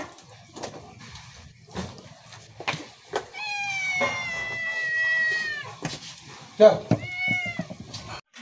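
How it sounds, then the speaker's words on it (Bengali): A cat meows repeatedly in drawn-out cries while clothes are washed on a cold, rainy day, with a person talking intermittently between and around the meows. "বিড়াল কি করছে বলো তো, ম্যা ম্যা মেয়া মেয়া করেই যাচ্ছে"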